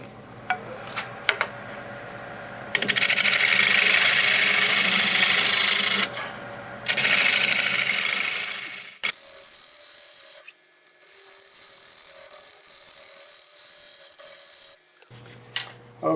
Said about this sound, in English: I'm going to take the negative rake scraper. I'm going to go over this.